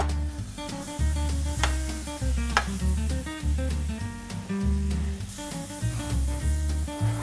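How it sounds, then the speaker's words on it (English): Butter sizzles and spits in a hot pan on the stove, a continuous crackling fry close by, with uneven bursts and stirring noises. "So I'm gonna go ahead and stick the butter in the pan."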